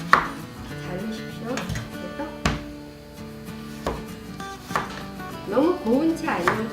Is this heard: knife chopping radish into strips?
yes